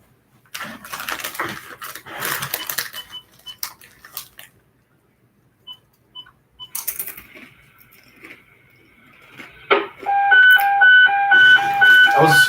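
A fire dispatch alert comes over a radio scanner as a string of short, even electronic tone beeps near the end, following bursts of scanner static and chatter, with people talking earlier.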